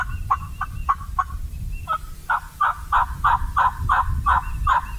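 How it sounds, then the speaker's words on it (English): A wild turkey gobbles repeatedly during a spring hunt, rapid rattling bursts arriving in two series over a low rumbling background, fairly clear but with a distant quality. "had a bird gobbling at the distance"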